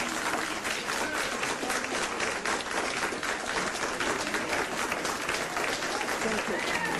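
Sustained, thick applause from a crowd gathered to discuss the Barcelona terror attack carries on at an even level for several seconds, with a voice talking over it.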